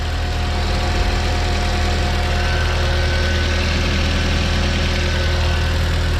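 A Volkswagen Mk3 1.8T engine idles steadily and smoothly, a low continuous hum with an even rumble throughout and no other sounds.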